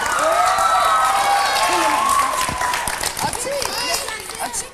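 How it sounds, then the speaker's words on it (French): A studio audience applauds the green team on the French children's game show Les Zigotos, with sustained clapping and cheering mixed with lively talk and whooping over the top. "On applaudit les verts!"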